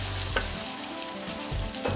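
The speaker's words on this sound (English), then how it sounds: "I can start frying off my halloumi cakes in a hot oiled pan" Halloumi cakes frying in a hot oiled pan, a steady close crackling sizzle with a few low thumps and scrapes as the pan is handled, no voices.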